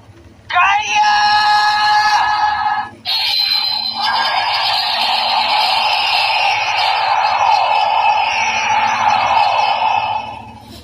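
A toy Henshin transformation device plays an electronic screaming voice, loud and harmonic: a short shout of about two and a half seconds, a brief break, then a longer sustained, wavering scream lasting roughly seven seconds.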